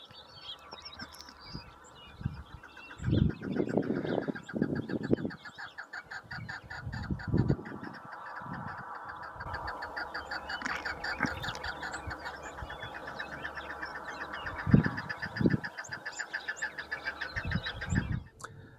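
A flock of chukars calling from a rock, giving repeated clucking and chattering notes that overlap into a busy, continuous chorus. Some calls sound close and loud, others fainter in the background, with scattered louder bursts.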